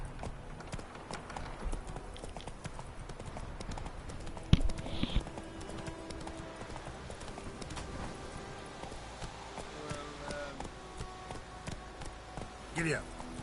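Horse hooves clip-clop at a gallop in The Witcher 3, a steady rhythmic beat running under game music and ambience, with a short louder clatter near the middle.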